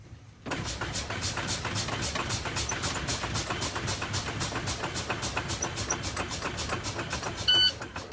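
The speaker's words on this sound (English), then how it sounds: "We're going to continuously pump the brakes until the pressure gets down to a 60 psi, and make sure we hear our warning alarm" A Class-A truck's low air pressure warning sounds during brake pumping: a steady, rapidly repeating beep pulses continuously over a low idling engine rumble, starting abruptly after a brief quiet moment and running for several seconds.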